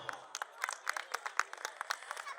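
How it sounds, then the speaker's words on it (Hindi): A small audience at an evening stage show gives light, scattered applause, a string of quick separate claps that sound fairly faint and thin, without speech over them. "जोरदार तालियां हो जाएं।"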